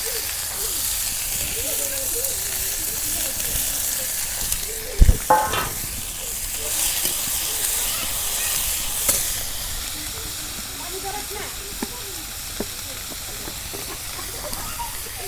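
Starfruit pieces hit hot oil in a frying pan while cooking a fish dish, giving a steady loud sizzle and hiss throughout, with a brief clatter as they drop in.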